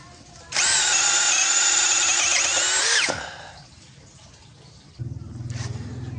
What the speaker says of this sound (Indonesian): di 16 mili matabor beton kayak agak maksa.